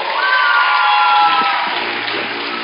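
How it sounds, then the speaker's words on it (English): A crowd at a high school debate finals event cheers and shouts loudly, with whoops and raised voices over a layer of applause, steady and close throughout. "Let's give her a big round of applause."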